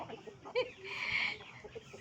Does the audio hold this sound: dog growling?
no